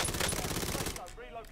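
Rapid automatic gunfire in Call of Duty: Black Ops 7 on the Enclave map, a loud, dense burst that cuts off and leaves a shouting voice.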